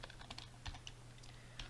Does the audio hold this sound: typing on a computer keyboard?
yes